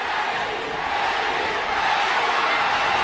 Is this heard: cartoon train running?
no